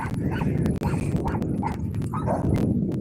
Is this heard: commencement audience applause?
no